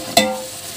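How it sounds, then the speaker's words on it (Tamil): Tomatoes are sautéed in a large pan for a mutton biryani charity feast. A single quick scrape of a stirring spoon cuts through a soft, steady sizzle within less than a second, with no talking. "அதையும் லைட்டாக வந்து வதக்கி விட்றலாம்"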